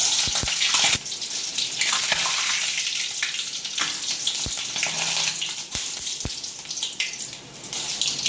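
Rolled chicken balls sizzling in hot oil, a loud continuous frying hiss with sharp bubbling crackles and occasional clinks of a utensil, close up and without talk.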